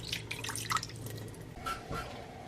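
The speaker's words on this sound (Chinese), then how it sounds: "加入清水" Clean water goes into a non-stick pan already holding salt and butter, a faint, brief trickle with a few soft splashes and drips, close and quiet, with no one speaking.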